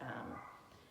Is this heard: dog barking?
yes